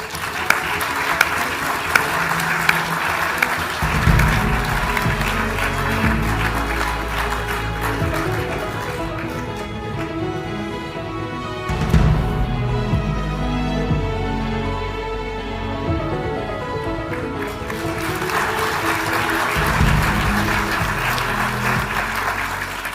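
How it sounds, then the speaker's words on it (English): A large audience applauds at an awards ceremony, with sustained, dense clapping that swells and eases across the stretch and carries on without voices. "Another round of applause for these incredibly important members of our community."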